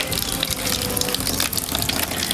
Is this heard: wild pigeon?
no